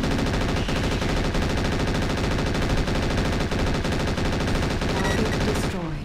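Heavy gunfire rattles from assault mechs in the video game MechWarrior 4: Mercenaries, a dense, continuous loud barrage of rapid shots that never lets up.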